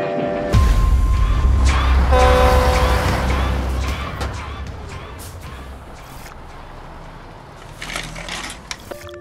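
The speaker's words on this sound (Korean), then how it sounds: "그런데 기차가 달려옵니다." A train in a film approaches over a railway bridge where boys are walking the tracks, a heavy rumbling roar with a blaring horn that swells loud, then thins and fades off.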